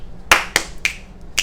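Four sharp finger snaps spaced unevenly over about a second, crisp and close, with no talk over them.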